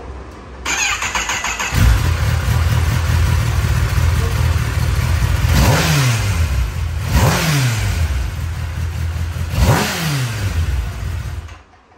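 Kawasaki ZX-10R superbike on its stock exhaust starts up and settles into a loud, steady idle, then gets three sharp throttle blips that rise and fall in pitch, with no talking.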